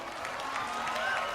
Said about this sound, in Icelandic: Gefum henni öll gott klapp